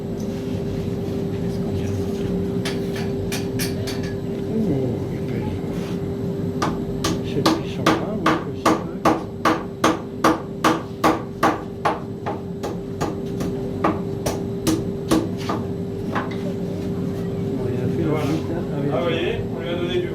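A blacksmith works a metal sheet on a wooden block with a round hammer, landing a quick run of sharp, evenly spaced blows with scattered strikes before and after, over steady background noise.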